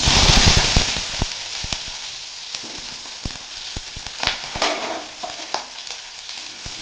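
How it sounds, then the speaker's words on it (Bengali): Potatoes frying in hot oil with whole cumin seeds and a dried red chilli over a medium flame, a steady sizzle with sharp crackling pops and scraping stirs, close and fairly loud. "দিয়ে মিডিয়াম ফ্লেমে দেড় মিনিট মতো ভেজে নেব আলু"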